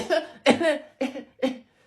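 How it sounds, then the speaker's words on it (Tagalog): Four sharp coughs from a person who says they are sick, in quick uneven bursts, close and loud with short pauses between. "May ubo kasi ako."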